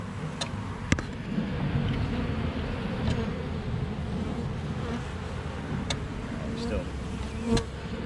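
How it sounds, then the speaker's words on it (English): A dense, continuous buzz of many bees up close on a swarm trap, droning steadily throughout with a few brief knocks and rustles. "I can feel this thing like vibrating from all the bees on it."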